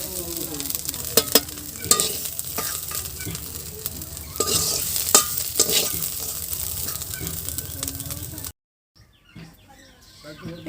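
Mustard greens sizzle in a hot pan in a village kitchen while a utensil scrapes and stirs in quick clattering strokes, birds chirping faintly outside, before the sound cuts to near silence.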